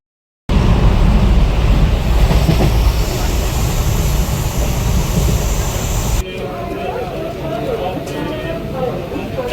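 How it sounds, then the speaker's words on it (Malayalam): Amrita Express passenger train running on rails, a loud continuous rumble and rattle of the carriages that drops to a quieter, steadier roll partway through. "അങ്ങനെ നമുക്ക് ട്രെയിന് കിട്ടി."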